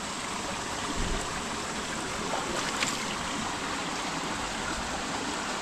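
A small spring-fed stream flows steadily near a hut, giving a continuous broadband rush of running water with no voices over it.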